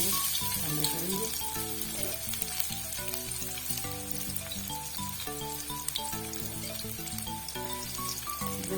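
Onion frying in cooking oil in a kadhai for a cabbage curry, a loud steady close sizzle throughout, with music playing over it.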